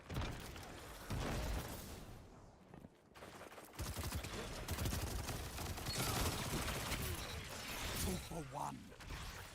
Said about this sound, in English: I hear shooting this way.